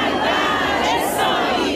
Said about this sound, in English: The crowds here chanting, "Down with Israel, death to Israel,"